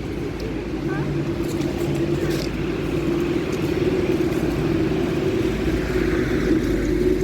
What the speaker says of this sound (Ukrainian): Боже, машина така шумна.